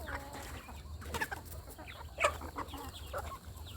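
Fighting-cock bloodline chickens cluck and squawk in short bursts in a low-cost backyard coop, faint and a little distant over a low steady hum.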